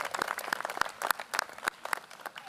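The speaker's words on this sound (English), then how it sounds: "Can we just have a round of applause for the weather?" An audience at an outdoor university inauguration ceremony claps in light, scattered bursts, fairly faint and sparse rather than a full ovation.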